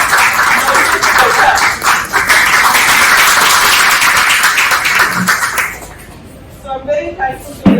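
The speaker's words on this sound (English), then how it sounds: "So let's hear a round of applause for your seniors." An audience gives a sustained round of applause for a group of seniors, loud and dense for several seconds before fading out, followed by a few quiet voices.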